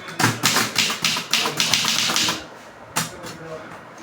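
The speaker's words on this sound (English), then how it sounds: "she still types efficiently on a fully functional typewriter" A fully functional manual typewriter in a provost's office is typed on in a quick, even run of sharp keystrokes, close and loud, then a pause and a few more strikes with room noise behind.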